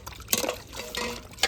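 Water splashes and drips while beef is washed by hand in a kitchen, with irregular close sloshes and trickles over about a second and a half. No one speaks.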